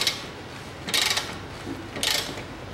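Ratchet clicking in two short bursts while a tight nut is undone on the front wheel hub of a 2010 Chery Amulet 1.6, close and fairly loud over a steady low background.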